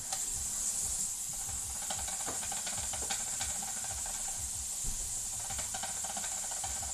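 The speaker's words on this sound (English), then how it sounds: "The ramekin's dancing around in the bottom of that pot. If you can hear that clinking noise, that's what that is." A ceramic ramekin rattles and clinks against the bottom of a pot of simmering water on the stove, with rapid irregular taps over a steady hiss of steam throughout.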